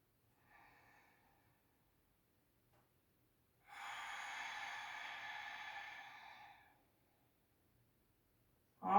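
Loud, steady breath of a person doing a yoga sun salutation: a short faint inhale, a pause, then a long audible exhale lasting about three seconds, close to the microphone.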